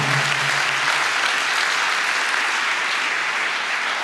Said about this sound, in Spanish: Si le va a aplaudir, apláudale al Señor.